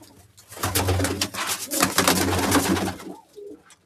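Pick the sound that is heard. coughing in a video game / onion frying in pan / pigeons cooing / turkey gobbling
pigeons cooing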